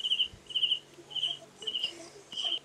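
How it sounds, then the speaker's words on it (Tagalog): A cricket chirps in steady, evenly spaced bursts of high trilling, fairly close and clear over a quiet background with no talking. "Rinig na rinig pa yung kuliglig."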